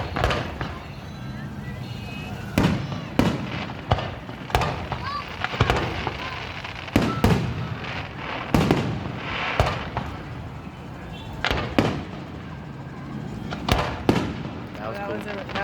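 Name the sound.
firework show shells bursting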